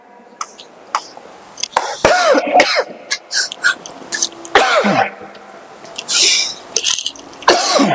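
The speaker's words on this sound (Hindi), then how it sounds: "सॉरी बच्चों, खांसी आ गई" Several sharp, harsh coughs and throat-clearing bursts in irregular succession, close to the listener, with no other speech.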